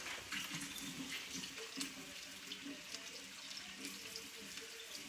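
Canned sweet corn drained over a sink, a steady soft trickle and splash of running liquid, fairly quiet, with no talking over it.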